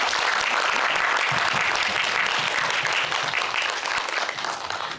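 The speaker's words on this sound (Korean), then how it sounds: "박수 한 번만 부탁드리겠습니다" Steady, dense applause from an audience at a cinema talk event after a film screening, with many hands clapping together and fading slightly toward the end.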